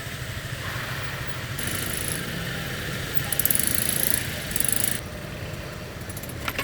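A motorcycle engine hums and drones steadily while riding in congested traffic, with brief louder revving surges and rushing wind noise throughout.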